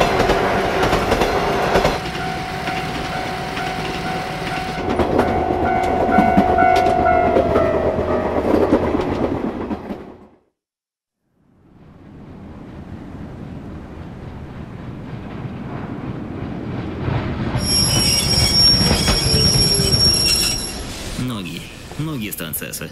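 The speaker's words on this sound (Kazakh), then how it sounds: "Пойыз станциядан станцияға өте баяу жылжып келе жатты." A train rolls slowly between stations, its rumble and rattling cars steady and loud, then fading to near silence before building again with a bright high squeal or horn-like tone near the end.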